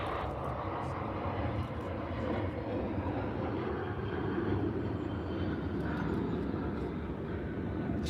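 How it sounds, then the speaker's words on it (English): A jet airliner takes off at Manchester Airport, its engines producing a broad, steady roar heard from the airport's south side, with faint voices nearby. "Shallow takeoff."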